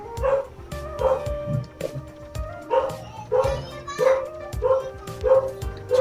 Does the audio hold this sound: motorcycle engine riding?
no